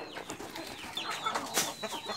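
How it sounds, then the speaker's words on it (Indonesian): A few hungry chickens cluck and chatter faintly nearby in short irregular bursts before feeding, with a brief sharper squawk partway through; no talking. "karena pak ayam saya sudah kelaparan, ini saya mau kasih makan"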